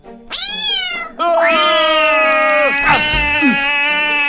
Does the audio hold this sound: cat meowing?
yes